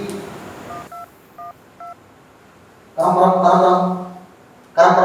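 Telephone keypad tones as a number is dialed, three short evenly spaced beeps close up, followed by louder bursts of voices and background sound.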